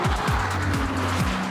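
Ferrari 296 GTB engine firing up after running in electric-only mode, a loud, close engine note rising and falling in quick revving sweeps, with no talk.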